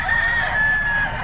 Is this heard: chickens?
yes